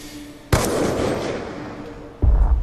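A sharp, loud gunshot from Call of Duty: Black Ops 2, fired as a headshot, booms out with a long echoing tail, and a second blast hits near the end.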